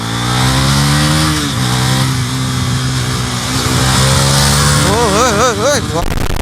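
A Bajaj Pulsar NS400Z motorcycle engine drones loudly while riding, its pitch climbing in rising sweeps as it accelerates through the gears, with wind rush and someone talking over it.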